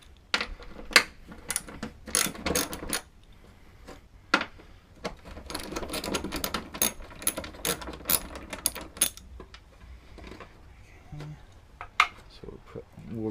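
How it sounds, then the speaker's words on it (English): A socket wrench with a 10mm socket ratchets bolts loose from the hood strut on a 1995 VW Golf MK3 2.0L 8v, giving bursts of sharp, rapid clicks with pauses, close up, and a person talks at times. "So first, let's get these bolts off."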